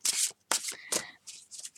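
Tarot cards are shuffled close to the microphone in several quick riffling bursts, a crisp papery flutter separated by short pauses, with no speech.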